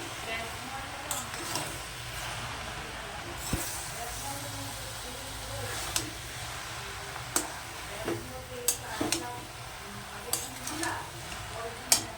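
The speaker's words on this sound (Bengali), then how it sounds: "এবার আমি আস্তে আস্তে বাঁধাকপিগুলোকেও দিয়ে দিচ্ছি।" Cabbage going into a frying pan of sautéed potatoes, with a low steady sizzle, soft stirring and scattered clinks of a utensil against the pan at close range.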